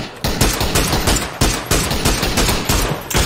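Rapid automatic gunfire in the shooting game PUBG rattles in loud, dense bursts of close shots with only short breaks, filling the whole moment without talk.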